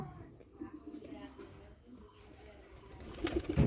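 A pair of Bombay pigeons kept with their chicks and eggs give soft, low cooing near the microphone, growing louder toward the end beneath a person talking.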